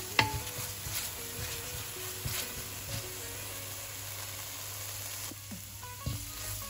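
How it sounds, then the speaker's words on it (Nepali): Ginger sizzling in a pan while being stirred, a soft steady crackle broken by scraping utensil strokes and light clinks, close and quiet, no voices. "अदुवा हालेर एकछिनसम्म भुटिरहनुपर्छ चलाइकन"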